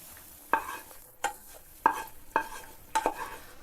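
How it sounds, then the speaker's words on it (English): Softened onion and garlic are scraped into a pot in about five separate scoops, each a short, sharp clink or tap over a near-silent background. "We transfer our onion and garlic into the pot"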